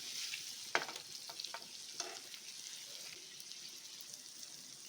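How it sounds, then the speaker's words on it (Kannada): Paneer frying on low flame in a pan gives a soft, steady sizzle, with a few sharp stir scrapes and clicks near the start and no voices. "ಪನ್ನೀರು ಸ್ವಲ್ಪ ಫ್ರೈ ಆಗಲಿ."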